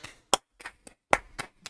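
A few separate, sharp hand claps close to the microphone, spaced unevenly with short silences between them, rather than a full applause.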